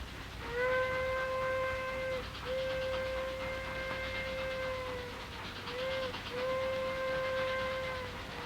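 A steam train whistle sounds several long, steady blasts in a row over a faint rumble, moderately distant and somewhat quiet.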